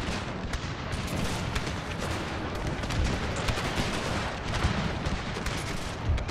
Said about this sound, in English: Our cannons are shooting through our own unit.